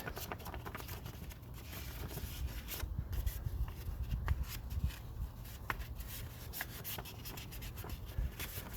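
Steady back-and-forth hand sanding of a foggy car headlight lens with wet/dry sandpaper, a continuous close rubbing and scratching that holds at an even level with no talk.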